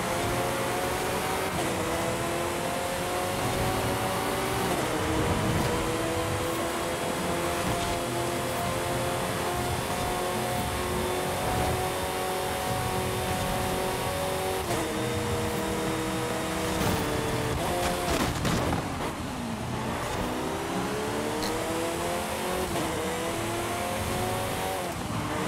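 Lotus Elise GT1 race car tearing along in Forza Horizon 5, its engine a loud, close, continuous drone whose pitch climbs and drops through gear changes, with a sharp dip and recovery near the end.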